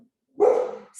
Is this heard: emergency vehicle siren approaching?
no